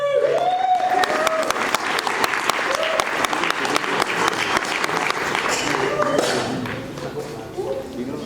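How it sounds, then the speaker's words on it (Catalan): At the Llevantada 2021 event, an audience gives a loud round of applause for the performer Raquel Santanera. Rhythmic claps cut through a full crowd wash, a voice speaks briefly at the start, and the clapping thins over the last seconds. "Sisplau, un fort aplaudiment per la Raquel."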